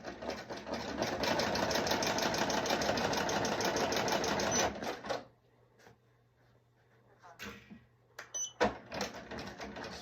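An embroidery machine stitches a patch with a steady, rapid mechanical chatter that runs loud for about five seconds, then stops and leaves brief rustles and clicks.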